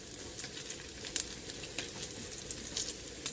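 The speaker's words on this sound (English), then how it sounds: "we have the grease on the griddle, and we're gonna get our onions down and get those cooking" Onions sizzle in hot oil on a griddle over medium heat, a steady close frying hiss with quick crackles and pops spread throughout, and no voices.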